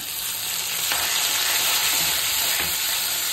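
Chopped onion with curry leaves sautéing in hot oil in a pan for dal tadka, a steady, close, loud sizzle with faint stirring scrapes and no talk.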